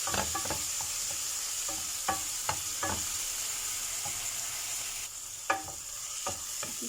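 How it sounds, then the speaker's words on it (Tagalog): Tomato, garlic, onion and ginger sautéing in a pan, a continuous close sizzle broken by repeated quick spatula scrapes in irregular bursts, with no talking. "Gisa tayo ng kamatis, bawang, onion, ginger."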